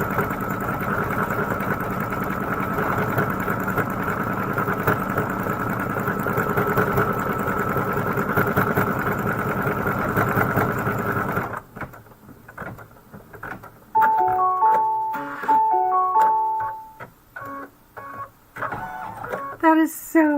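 A Kimberbell embroidery machine stitches out a flower design for a Main Street Celebration pillow wall hanging, humming steadily and close by for about eleven seconds, then giving way to quieter stop-start mechanical sounds and brief tones.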